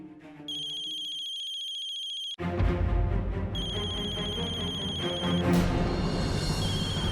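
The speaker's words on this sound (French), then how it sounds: "Madame Paki, les téléphones sont interdits en audience." A mobile phone ringtone goes off in a courtroom, a bright electronic melody that repeats in two bursts, then continues over a louder, busy wash of background sound.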